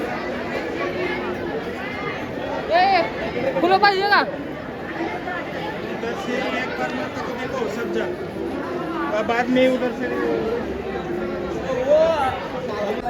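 A dense crowd mills at Tulja Bhavani temple in Tuljapur ahead of Navratri, with steady overlapping chatter and babble, footsteps and occasional louder voices near and far, and one nearby voice speaks clearly.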